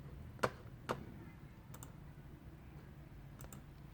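A few quiet presses on an external keyboard connected to an iPhone or iPad in a hushed room, two distinct clicks followed by softer taps spaced apart.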